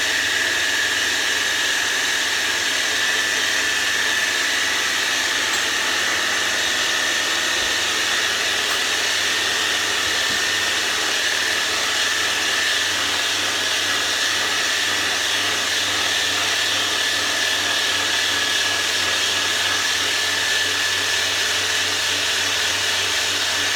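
A NutriBullet blender runs steadily while making raw vegan feta cheese, a loud, continuous high-pitched whirring motor drone that stays constant throughout with no voices.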